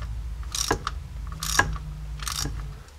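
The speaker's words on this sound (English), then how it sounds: "now all we have to do is just finish tightening up this 13 millimeter bolt" Ratchet tightening a 13 millimeter bolt during a slip yoke eliminator install on a vehicle driveshaft: three short bursts of clicking, close by, with brief pauses between, no voices.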